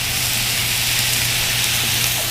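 Loud, steady hissing sizzle of water turning to steam on a hot surface, continuous and close, with no talking.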